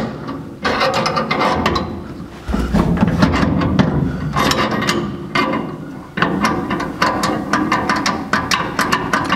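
Small metal clicks and turning scrapes come from a clevis being screwed onto the brake push rod of a 1949 Chevrolet gasser, a close, steady run of ratchet-like mechanical ticks with no talking.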